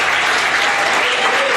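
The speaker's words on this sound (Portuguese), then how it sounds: "Aplauda o Senhor Jesus bem forte" A church congregation bursts into loud, dense applause for Jesus, a continuous wash of many hands clapping at once that fills the room with no gaps.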